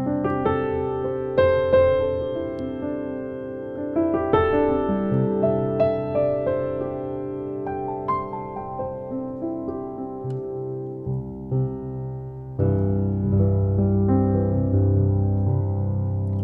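Intimate Grand software piano on its stock setting plays a slow, gentle sequence of sustained notes and soft chords, ringing and overlapping, with a fuller low chord swelling near the end.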